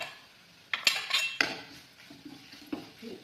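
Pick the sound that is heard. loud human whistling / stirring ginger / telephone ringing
stirring ginger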